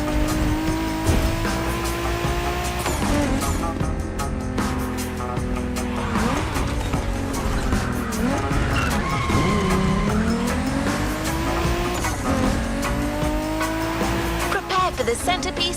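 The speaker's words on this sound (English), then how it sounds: "There's an absolute classic heading your way, a grail among collectors and Jim's greatest pride, the Mustang Boss 429." A Mustang Boss 429 muscle car roars in the racing game The Crew Motorfest, its engine revving up and down through gears with repeated loud tire squeals throughout.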